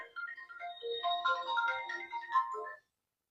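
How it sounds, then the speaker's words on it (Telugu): A phone plays a melodic electronic ringtone for an incoming call from a father: a bright, clear run of quick notes for under three seconds, then it stops and silence follows. "మీ నాన్న ఫోన్ చేసినారు"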